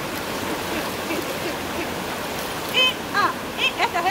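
A river on an island flows with a steady broadband rushing of water, and a few brief squeaky chirps and voices near the end.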